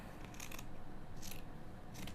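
Texi Titanium scissors cut through thick fabric in three quiet, crisp snips spaced roughly evenly, with faint background noise between them.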